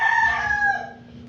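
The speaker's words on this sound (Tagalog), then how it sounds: "yung tunog ng manok" A rooster crows once, close and clear, its call trailing off at the end.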